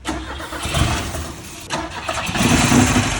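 An old Ford Cortina engine, a barn find, cranks and sputters, catches briefly, then cranks again and roars to life, settling into a rough, noisy run.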